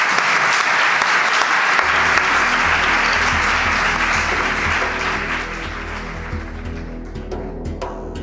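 A studio audience breaks into loud, dense applause for a performer on a television programme, the clapping steady at first and then thinning gradually as a low hum rises underneath.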